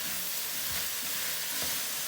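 Vegetables cook in a pot for turkey chili, a soft steady sizzle with a few quiet scraping stirs of a utensil against the pot.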